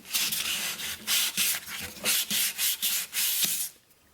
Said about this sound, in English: You'll notice as you sand it that it changes the sheen.